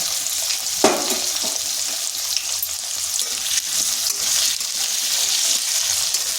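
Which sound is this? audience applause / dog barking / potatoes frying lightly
potatoes frying lightly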